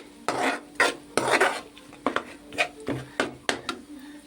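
A ladle stirs and mixes dal in a metal pot, with about eight distinct scraping clanks at an uneven rhythm, close and fairly loud, over a faint sizzle.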